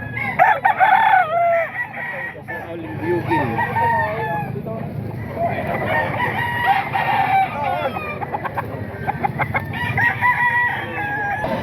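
Roosters crow repeatedly among clucking fowl at a local gamefowl farm, the calls overlapping close by with someone talking over them.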